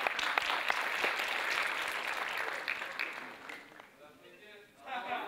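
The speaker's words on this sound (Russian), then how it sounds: "Под ваши аплодисменты, друзья." Audience applause fills a KVN comedy show hall, loud and steady for about four seconds before fading, then swelling briefly again at the end.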